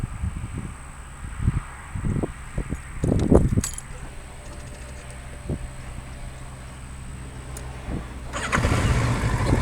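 A Kawasaki motorcycle sits quiet with a few clicks and knocks, then its engine cranks and catches near the end, rising into a close running idle outdoors.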